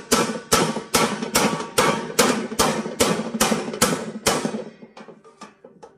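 Stud welding of a stainless steel stud onto color steel tile: nine sharp, loud cracking bursts in a steady rhythm about half a second apart, each with a short crackling tail, fading into sparse faint pops at the end.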